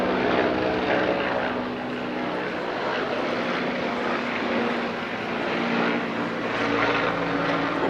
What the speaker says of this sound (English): We'd have a plane overhead every 3 minutes.